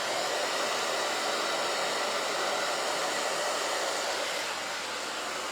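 A hair dryer blows heat steadily on a wig, a loud continuous broadband whoosh that holds level for several seconds before easing slightly at the end, with no voices.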